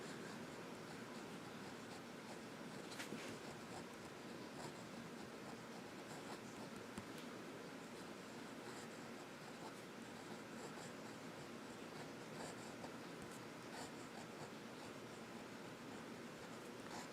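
A Papermate fountain pen with a gold-plated nib glides over paper in reverse writing, giving a faint, steady scratch against soft background hiss and no speech.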